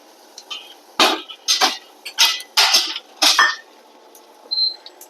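Whole coriander seeds hit a hot steel pot in a home kitchen, giving about seven short, sharp crackling sizzle bursts spaced roughly half a second apart, close and fairly loud, followed by a faint tail.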